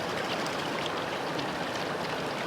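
A waterfall flowing in Glen Etive in the Scottish Highlands, heard as an even, continuous hiss of falling water with no breaks and no voices.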